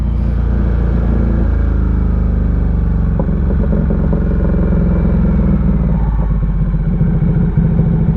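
A Ducati motorcycle engine running rich on a European road trip, a loud steady exhaust drone close by with irregular crackles and pops from the pipe, one rev change partway through, and no talking.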